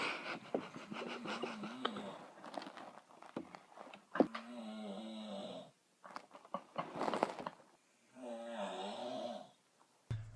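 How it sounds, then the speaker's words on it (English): A person snores in a bedroom, heard from across the room: several long, rough, rattling breaths in a slow irregular rhythm, separated by quiet pauses, with faint giggling at the start. "and then it's the snoring."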